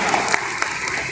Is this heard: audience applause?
yes